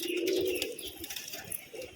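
A pigeon coos once in a low, drawn-out phrase up close, then quieter murmurs and faint rustling follow in a pigeon loft.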